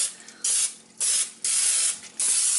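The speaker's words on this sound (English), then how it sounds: "I'm gonna go ahead and spray the inside with vegetable spray." Four short hissing bursts from a vegetable oil cooking spray can, close and loud, each lasting about half a second with brief gaps between.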